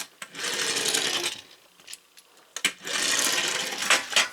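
A vintage Generation 1 Transformers Hound toy car rolls across a tabletop in two long, steady rumbling passes, close and fairly loud, with small clicks and knocks between them.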